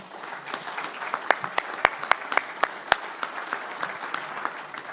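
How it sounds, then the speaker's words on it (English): A conference audience gives a round of applause, with dense clapping from many hands and a few sharp, close claps standing out before it tapers off. "I'd like you to give him a round of applause if you would right now"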